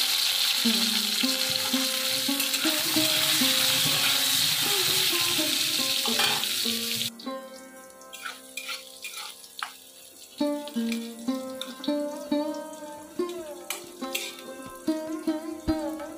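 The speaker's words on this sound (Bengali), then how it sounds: "তেলটা গরম হয়ে গেছে, তার মধ্যে আমি বেগুনটা দিয়ে দিলাম" Eggplant coated in salt and turmeric hits hot mustard oil in a wok, giving a loud, hissing sizzle, which then drops to quieter frying with intermittent stirring clinks and scrapes.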